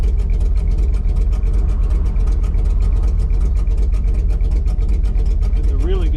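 A 1968 Dodge Charger R/T with a 727 automatic transmission idles with a steady, loud, close rumble and a rhythmic pulse, while someone talks over it.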